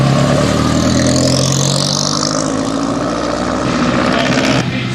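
A vintage Bentley 4.5 Le Mans Open Tourer with a 140 PS engine roars close by, its loud, steady engine note holding throughout with a slight shift in pitch near the end.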